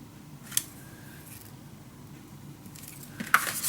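Scissors snipping through blue craft paper at a tabletop scrapbooking project, a couple of short, crisp cuts heard faintly and close against a quiet room.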